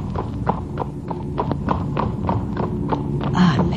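Horse hooves clip-clop in a steady, evenly spaced rhythm close by on a forest path, the sharp clacks continuing for several seconds over low background rumble without talk.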